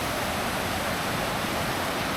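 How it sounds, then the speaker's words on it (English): Water rushes through a side channel beside a lock on the C&O Canal, a steady broadband hiss like a small weir, close and without talk. "There is a side channel for the water."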